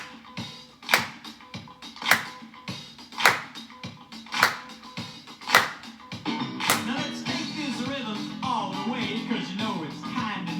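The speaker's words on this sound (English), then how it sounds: "Put your hands together on the rhythm of a 2 and 4 and you clap like this" Hands clap along on the 2 and 4 beat, about five sharp, evenly spaced claps ringing out loud before music with a bouncing tune takes over.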